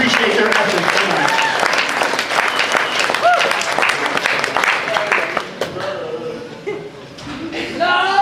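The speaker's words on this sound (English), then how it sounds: "Give my volunteers a big round of applause" An audience claps and cheers enthusiastically, with voices and chatter mixed in before the applause thins out.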